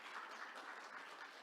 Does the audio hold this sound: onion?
no